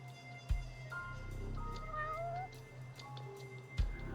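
A cat called Mr. Kitty meows several times in a row, its drawn-out, wavering cries fairly close over a steady low hum, with a couple of sharp knocks at the start and end.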